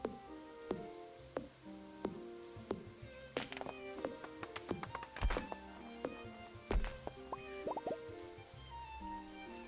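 Rain falls in the Stardew Valley farming game, a steady patter of scattered drips and plops over soft looping music.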